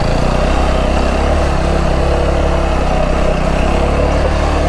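A motorcycle engine drones loud and close, a continuous rough buzz without pauses, on a hill road near Lama and Alikadam in Bandarban.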